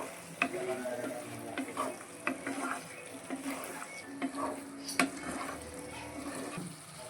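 Paneer chilli being stirred in a hot pan, with a steady close sizzle of frying and repeated sharp scrapes and clinks of the spoon against the pan at an uneven rhythm.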